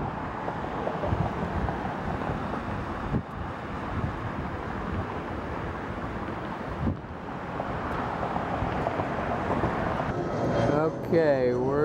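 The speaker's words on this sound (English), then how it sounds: "Here's a 757 landing." A Boeing 757 airliner lands at Atlanta airport, a steady broad roar of jet engines and wind rumble holding throughout and swelling slightly toward the end, where a whining engine tone rises, heard at a distance outdoors.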